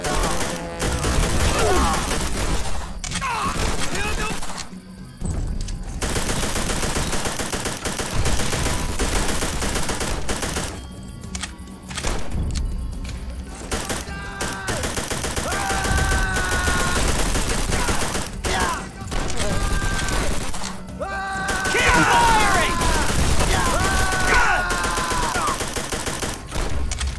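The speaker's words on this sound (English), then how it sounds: "Keep firing!" Sustained gunfire and machine-gun bursts in the video game Call of Duty: World at War, loud and dense across a battlefield, with shouting voices mixed in throughout.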